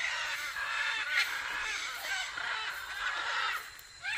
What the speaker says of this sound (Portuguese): Tem bastante arara aqui, ó.